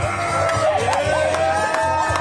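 A crowd cheers and whoops at Z-Burger's 2024 Independence Burger Eating Championship, mixed voices rising and falling in short shouts over a steady background hum.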